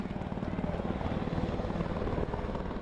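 A helicopter flies overhead with a dense, continuous rotor roar and a choppy low pulse, loud and steady throughout.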